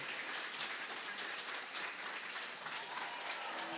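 A church congregation applauds steadily throughout, a dense, even wash of many hands clapping at moderate distance with no breaks.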